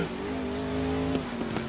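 Racing engine of a GT1 car in the GRID 2019 racing game, a loud steady high-revving drone held throughout, with brief tire or contact noises near the end.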